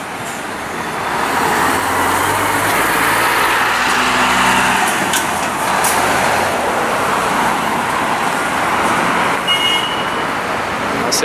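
An intercity bus pulls out of the Tietê bus terminal in São Paulo on a holiday morning, its engine a steady low rumble among general traffic and station noise, continuous and fairly loud throughout.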